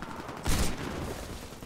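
A short gunfire burst from a shooter game, Warface on Nintendo Switch, one sharp loud blast with a brief rattle trailing off under faint background noise.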